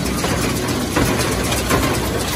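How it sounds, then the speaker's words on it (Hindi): A large full-power tractor drives a crop residue baling machine in a field, giving a loud, steady engine drone with a rough mechanical churn and no break. "बड़ा ट्रैक्टर जो फील्ड फुल पावर का ट्रैक्टर है लगाया हुआ मशीन के।"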